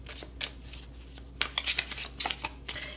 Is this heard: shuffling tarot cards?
yes